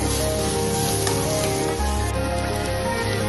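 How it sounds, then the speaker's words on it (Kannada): Onion and garlic sizzle steadily in hot oil in a pan while cooking a drumstick leaf palya, a dense, even crackle that stays close and continuous with no voices. "ಇಷ್ಟು ಫ್ರೈ ಆದ್ರೆ ಸಾಕು ಈರುಳ್ಳಿ ಮತ್ತೆ ಬೆಳ್ಳುಳ್ಳಿ"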